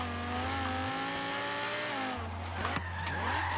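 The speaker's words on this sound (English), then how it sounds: "Right, I'm going to try a little bit of handbrake here. There we go. Nice drift, lighten those wheels up." A car drifts under handbrake in Forza Horizon 3, engine droning with shifting revs while tires squeal through the slide, close and continuous, the game car sound standing alone.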